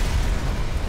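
A car bomb packed with about 20 kilos of explosive detonates outside a police building on Russell Street, Melbourne, heard as a dense, loud, sustained low rumble with no voices.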